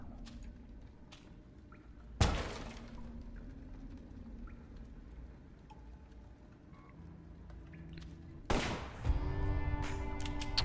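Two sharp, loud gunshot bursts ring out in the PC video game West of Dead, separated by several seconds of low background game sound and followed by busier in-game noise.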